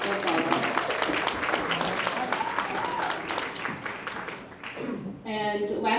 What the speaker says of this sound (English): if we can do a big round of applause for Betsy.